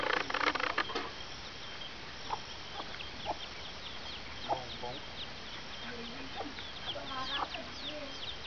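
Chickens clucking at a home, repeated short clucks and cackles scattered throughout, near and moderately loud, with a noisy burst at the very start.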